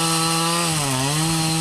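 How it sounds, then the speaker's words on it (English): A chainsaw roughs out large blocks from a big wood root, its engine whining steadily and close up with a slight dip in pitch midway as the chain bites into the wood. "with a chainsaw I rough out large blocks"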